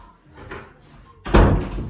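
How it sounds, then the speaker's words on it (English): A door is pushed shut in a home, a faint shuffle followed by a single loud, close thud as it closes. "I'm just gonna shut the door for the noise of my children."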